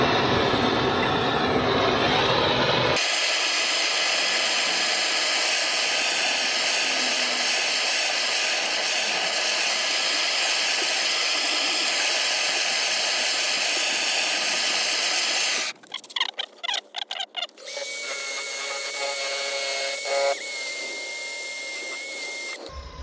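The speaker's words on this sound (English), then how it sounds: "Well, first of all, burning it." A torch flame burning a wooden tool handle gives a steady, loud hissing roar that runs for a long stretch, then cuts out and gives way to sputtering bursts and a fainter hiss.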